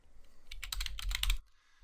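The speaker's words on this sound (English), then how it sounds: "I'll just start typing" Quick keystrokes on a computer keyboard, about a dozen crisp clicks in a fast burst lasting under a second before stopping, close by with no talking.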